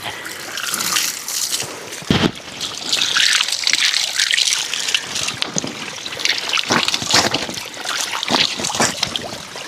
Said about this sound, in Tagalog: Tulig ng tubig.